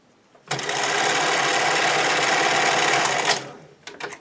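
A sewing machine zigzag-stitches folded elastic onto stretchy swimwear fabric in one steady, fast, whirring run of about three seconds, then stops with a few faint clicks.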